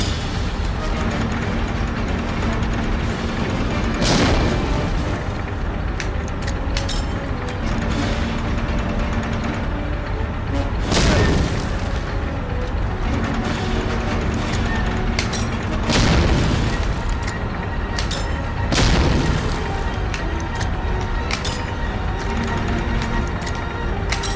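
Grenade blasts in the Medal of Honor shooter game, several loud booming bursts at irregular intervals over a steady noisy din of mechanical gameplay sound.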